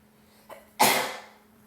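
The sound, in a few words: character sneezing in video game Baldur's Gate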